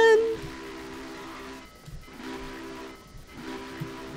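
Union Pacific 844 steam locomotive whistle in Train Simulator 2018, a loud sustained blast at the start fading into a hissing rail background with softer repeated whistle tones.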